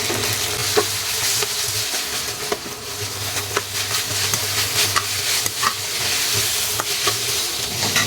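Vegetables with carrot and ginger garlic paste are stir-fried in a pan, giving a continuous close sizzle broken by repeated scraping stirs, with no speech.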